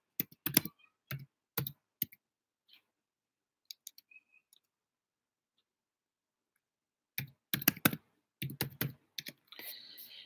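Typing on a computer keyboard comes in quick clusters of close clicking keystrokes, separated by a long silent pause in the middle, with no voices.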